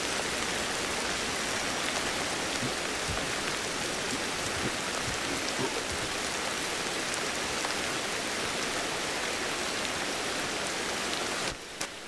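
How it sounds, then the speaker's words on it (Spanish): Rain falls in the video game Ancestors: The Humankind Odyssey, a dense, even hiss of drops that runs steadily for several seconds before cutting off at the end. "La verdad que está genial la lluvia"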